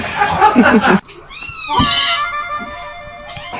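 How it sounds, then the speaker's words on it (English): A house cat meows with rising, drawn-out harmonic cries following a burst of louder human talk, the calls close and fairly loud over background room noise. "That looks like a house cat."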